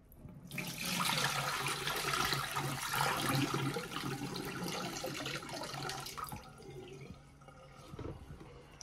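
Running water rinses out the dirty water tank of a Roborock S7 Max Ultra robot vacuum, a loud continuous splashing gush that lasts several seconds before it eases and trickles off near the end.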